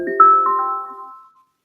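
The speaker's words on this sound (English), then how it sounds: "Sorry, that's my phone. I'm getting a call." A mobile phone rings with an incoming call, a single loud, close melodic chime that rises, then fades out within about a second and a half.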